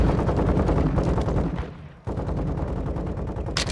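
M16 rifle firing in Call of Duty: Modern Warfare 2, a loud rapid stream of automatic shots with one brief pause before the burst resumes.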